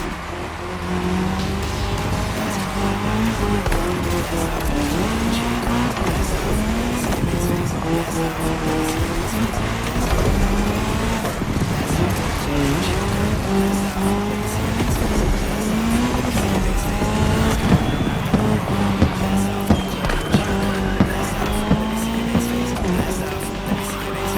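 Race cars in The Crew Motorfest, a cross-terrain racing game on PS5, roar continuously with steady engine drone and tire squeal on tarmac, loud and close throughout, with no talk.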